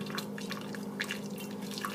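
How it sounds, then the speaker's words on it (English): Hot liquid from a pot pours slowly through a funnel while making a yeast starter, a quiet trickle broken by soft drips over a steady low hum. "I'm going to slowly go ahead and pour this in"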